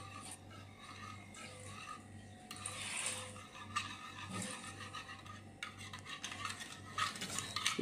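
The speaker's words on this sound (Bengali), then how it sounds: "আবার একটু নেড়ে চেড়ে নিতে হবে" Eggs and milk being stirred in a pan for egg halwa, with soft, close scraping and clinking of a utensil against the metal in irregular strokes over a low hum.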